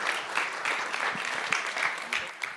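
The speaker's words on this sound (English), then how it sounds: "Please give them both a round of applause" Steady audience applause, a dense patter of many hands clapping continuously at moderate loudness with no voices over it.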